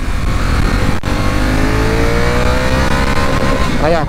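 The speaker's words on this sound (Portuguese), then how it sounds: "Aí, ó, cortou giro, tá vendo?" A Honda Africa Twin DCT motorcycle engine revs hard in first gear in manual mode and hits the rev limiter, a loud, steady, close engine roar that climbs in pitch and stutters as the limiter cuts in.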